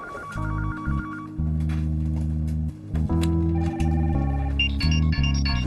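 A telephone rings with an electronic melodic ringtone, bright tones repeating loudly and clearly with no talking.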